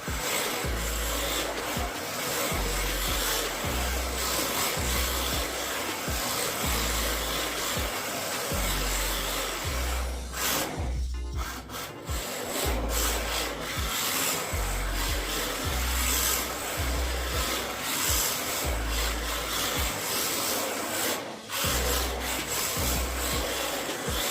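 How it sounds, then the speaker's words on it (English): A 1/24-scale BMRX-FLD two-wheel-drive mini RC drift car circles around a tire, its small electric motor whining continuously with rhythmic surging pulses and scraping, rubbing tire noise close to the microphone. "Let's try drifting around this tire real quick."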